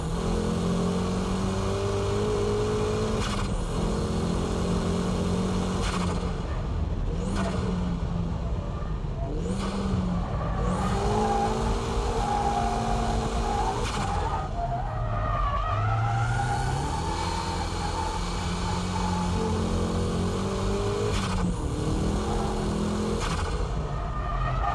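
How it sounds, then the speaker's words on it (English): A car power drifting out of a corner exit revs hard and continuously, its engine note climbing and falling while tires squeal and skid beneath it, loud and close. "Here I'm power drifting at the exit."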